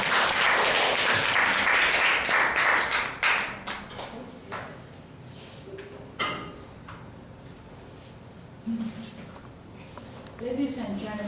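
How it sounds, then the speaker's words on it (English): Applause from an audience at a Toastmasters club meeting swells loudly in the first few seconds, then thins and dies away as talking takes over. "Let's give her a big applause."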